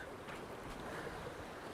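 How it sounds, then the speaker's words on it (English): Open Atlantic swells rolling and washing around a small 30-foot sailboat at sea, a continuous rushing wash of water with wind buffeting the microphone. "some of the waves decide to break close to our stern"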